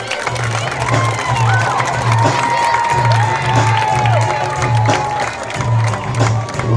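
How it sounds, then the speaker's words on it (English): A stadium crowd at a high school varsity football game cheers and applauds the homecoming court, with whoops and shouts over a continuous roar and a rhythmic low hum underneath. "a round of applause for the entire homecoming court"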